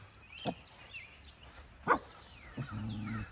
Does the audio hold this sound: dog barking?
yes